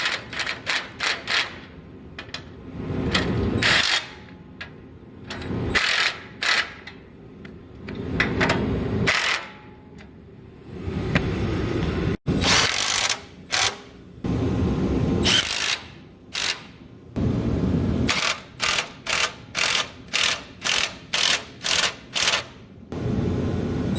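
Bolts being fastened to a side brace on a radiator mount, heard as bursts of rapid mechanical rattling and clicking, some long and some short, separated by brief pauses, with a fast run of short bursts near the end.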